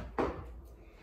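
A chair set down on the floor during a gentle maintenance exercise class: one short, muffled wooden knock and scrape, fairly close, followed by quiet room tone.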